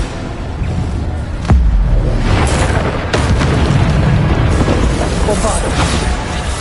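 Bombarda spell explosions from the Hogwarts Legacy video game land as loud booming blasts, a big hit near the start and further bursts after, over a steady rumble of game action and speech.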